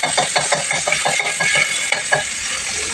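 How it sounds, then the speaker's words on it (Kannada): Ginger garlic paste fries in hot oil for a stovetop gobi dish, giving a dense, steady sizzle broken by rhythmic scraping stirs of a utensil against the pan, close and without talk. "ಎಣ್ಣೆ ಕಾದಾದ್ಮೇಲೆ ಬೆಳ್ಳುಳ್ಳಿ ಪೇಸ್ಟ್ ಎಲ್ಲೋಗೋವರೆಗೂ ಚೆನ್ನಾಗಿ ಫ್ರೈ ಮಾಡ್ಕೋಬೇಕು"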